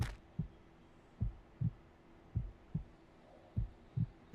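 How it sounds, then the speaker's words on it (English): A heartbeat in a video game thumps in paired lub-dub beats at a steady, slow rhythm, deep and muffled against a quiet background hum. "I hear a heartbeat."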